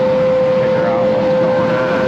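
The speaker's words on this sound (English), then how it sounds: "I might have to shut the tractor off." A John Deere tractor engine idles steadily nearby in tall grass, a loud continuous drone with a strong steady tone and no break over two seconds.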